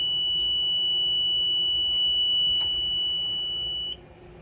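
Pierce Enforcer fire truck cab at ignition while the dash gauges sweep, a steady high warning tone sounding continuously for about four seconds under a low idle hum, then cutting off abruptly near the end.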